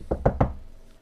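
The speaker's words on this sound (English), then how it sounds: "He comes running right up to Christina's room and knocks frantically on the door." Three quick, hard knocks land on a wooden bedroom door in an old building, close and urgent, then fade into silence.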